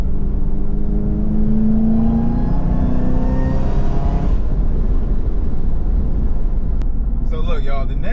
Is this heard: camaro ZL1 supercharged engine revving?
yes